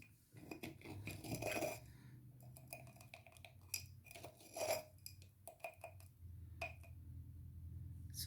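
A metal spoon measures out powdered dragon's blood resin with faint clinks and taps against a container, several light strikes and scrapes spread out at close range in a quiet room.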